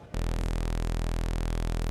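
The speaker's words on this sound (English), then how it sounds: "And here is a sawtooth wave." A bright, buzzy sawtooth tone from a Zynaptiq Orange Vocoder IV synthesizer switches on abruptly and holds steady, loud and harmonically rich, with no voices.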